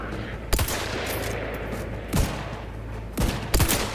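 Rapid gunfire from the video game The Outer Worlds 2 plays as a few sharp bursts over a steady, dense game soundscape of rumble and hiss, fairly loud and continuous.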